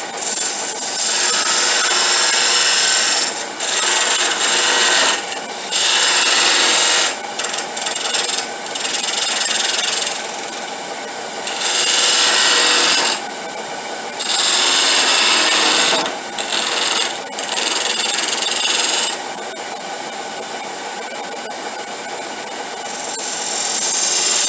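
A wood lathe cuts a tenon on the bottom of a small turned wooden box, producing loud, close scraping and rasping of the tool on spinning wood in repeated passes with brief pauses between.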